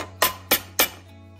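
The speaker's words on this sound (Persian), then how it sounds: "میشکنید توی کاسه،" Three sharp, quick cracks of an egg against a hard bowl edge, evenly spaced, close up and clear, followed by quiet.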